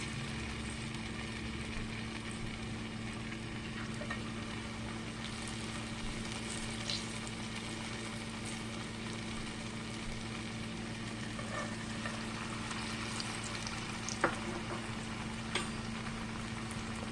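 Apple fried pies fry in oil in a skillet, giving a steady, close bubbling sizzle that runs continuously with a few small pops and crackles.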